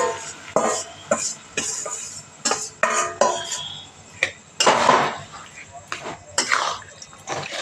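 Lentils (dal) go into fried onions in a pan: metal utensils clink and scrape against the cookware in irregular, close stirring strokes, with some light clattering.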